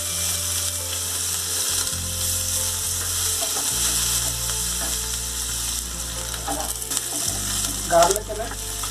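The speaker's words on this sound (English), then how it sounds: "Heat the pan and add chili, bay leaf and cumin seed in it." Chili, bay leaf and cumin seeds sizzle in a hot pan for a Hyderabadi green chili chicken curry, a steady close crackling fry with a low hum beneath and a few brief clatters near the end.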